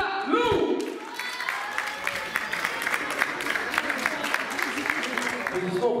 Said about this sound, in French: Je vous demande de l'accueillir sous des applaudissements spontanés